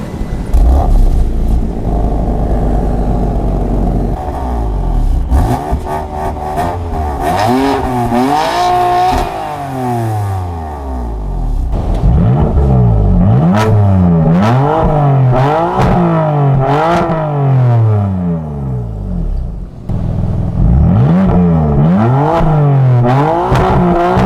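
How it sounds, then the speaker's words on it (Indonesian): A BMW M3 F80 2017 engine fires up and idles roughly, then the exhaust roars through repeated sharp revs, each one climbing and falling back, close and powerful. "gimana guys suara knalpotnya? Mantep banget kan?"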